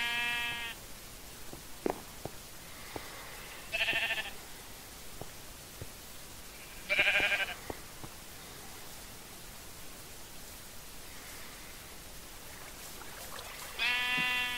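Sheep in Minecraft bleat four times, short wavering calls spaced several seconds apart against a faint steady hiss, with no talking.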